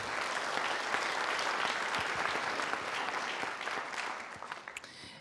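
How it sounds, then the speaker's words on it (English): An audience at a high school scholarship awards night applauds, a dense, even wash of clapping that holds steady at moderate level, then fades out in the last second. "Let's give him a round of applause."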